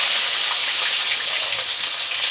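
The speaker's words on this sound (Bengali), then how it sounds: "এই তেলের মধ্যে আমি দিয়ে দেব পেঁয়াজ কুচি" Chopped onion hitting hot oil in a pan while cooking chicken biryani, a loud steady hiss and crackle of frying that continues close up with no talking.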